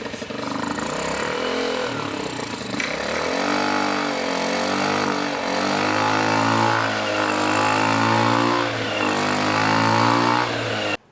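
A JDM car engine is cranked on starting fluid, sputtering and then revving loudly in uneven surges that stay close and steady for about eleven seconds.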